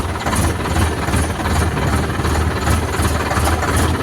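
An Indo Farm 50-horsepower tractor engine runs close by with a loud, steady, rough diesel rumble and rhythmic throb, no voices over it.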